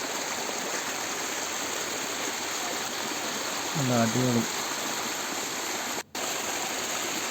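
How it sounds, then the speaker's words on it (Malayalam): Water gushes strongly out of a hole in the ground with a loud, steady rushing roar throughout, and a voice speaks briefly over it. "ആ പൊത്തിൽ നിന്നാണ് വെള്ളം ഇങ്ങനെ ശക്തിയായിട്ട് വരുന്നത്"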